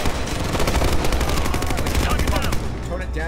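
Sustained automatic AK-47 fire in Ghost Recon Future Soldier, a loud, dense stream of rapid shots with barely a break before it tails off.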